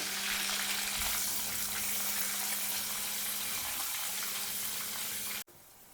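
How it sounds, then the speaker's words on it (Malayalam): Chopped green chillies sauté in a pan for a Kerala fish curry, giving off a steady, close hiss of frying that cuts off abruptly near the end. "അതുപോലെ തന്നെ രണ്ട് പച്ചമുളക് ചെറുതായി കട്ട് ചെയ്തും കൂടി ചേർത്ത് ഒന്ന് വഴറ്റിയെടുക്കാം"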